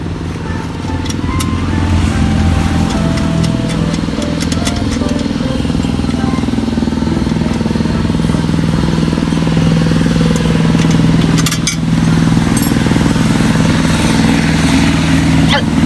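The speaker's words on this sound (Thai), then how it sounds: "ท่อเจมเสียบหูส่วนไหนอันนี้เสียงแบบโอ้เสียงลั่นๆเนาะแบบหนาแบบนี้เลยนะเสียง" Honda Wave 110i motorcycle fitted with a James aftermarket exhaust, its thick, loud engine note droning steadily close by throughout, with a person talking over it.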